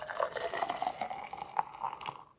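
Beer poured hard from a freshly cracked can into a glass, a close gurgling stream with bubbly splashes and foaming fizz that runs steadily, then tails off at the end.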